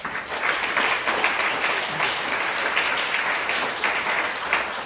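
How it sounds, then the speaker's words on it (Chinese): Warm, sustained applause from a concert audience welcoming a piano solo of 'Che gelida manina' from La Bohème, dense and even for the whole stretch. "以热烈的掌声迎接这个你那好冷的小手"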